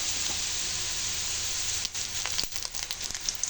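Onion and green chili fry in a pan with a dense, steady sizzle that thins out partway through into scattered pops and crackles, heard close up.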